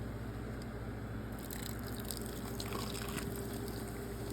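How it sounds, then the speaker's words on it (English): Budweiser beer pours over New York strip steak pieces, a soft close splashing and squishing trickle over a steady background hum, with no voices. "Put a little bit of Budweiser in there."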